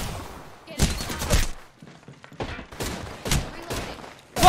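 Video game gunfire in a new-season match: close, loud bursts of rapid shots in two clusters separated by a short lull, with brief quieter gaps and a faint voice under the shooting.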